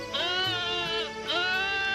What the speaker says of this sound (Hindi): इतनी रात गए मेरी बकरी इतना चिल्ला क्यों रही है?